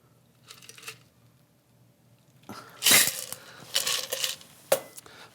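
A Pegu Club cocktail is strained into a chilled cocktail glass: a quiet start, then bursts of ice rattling and sharp glassy clinks, close and fairly loud.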